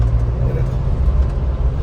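A Maruti Suzuki Jimny or Mahindra Thar pulls in second gear, giving a loud, close, steady low engine rumble inside the cabin with the air conditioning running.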